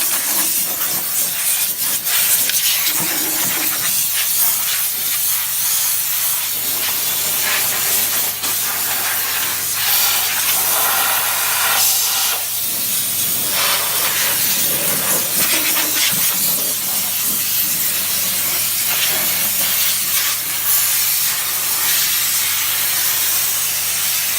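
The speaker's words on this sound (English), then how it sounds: "I always think you get a far better job doing this with a steam cleaner." A steam cleaner sprays a steady, loud hiss of pressurized steam across the mud-caked underside of an off-road Land Rover before undersealing, continuing without a break and with no talk.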